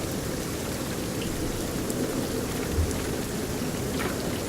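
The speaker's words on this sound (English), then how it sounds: "Turn down the rain." Rain pours in a steady, dense hiss with a soft low rumble of thunder underneath, forming an unbroken storm ambience with no voices.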